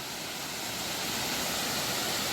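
Small man-made waterfalls tumble over rock work beside a creek trail in a state park, giving a steady, even broadband rush of falling water that stays constant and fairly close throughout, with no voices.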